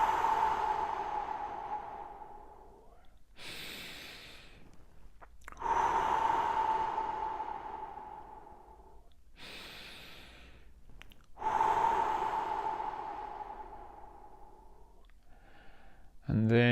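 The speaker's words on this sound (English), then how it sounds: "3 big deep breaths." Three slow, deep breaths in a calm guided breathing exercise before a run, each a long, close airy inhale and exhale rising and fading, separated by short pauses.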